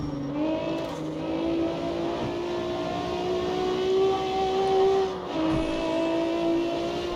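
Nissan GT-R engine in the CarX Street driving game, a steady droning hum with sustained tonal whine that rises and holds, then briefly dips around a gear shift, continuous without talk.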